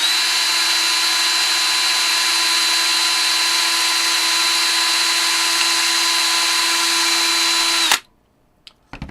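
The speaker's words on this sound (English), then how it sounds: "We just put the nozzle back onto our drill bit and drill while we kind of rotate the nozzle." A power drill runs steadily at high speed while drilling out a clogged 3D printer nozzle, a loud continuous whine that stops abruptly near the end, leaving faint handling noise.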